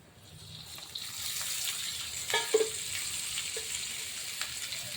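Onion for a dried bombil dish fries in a pan with a soft, steady sizzle, broken midway by a few sharp sputters and scrapes, with faint watery hiss beneath and no talking.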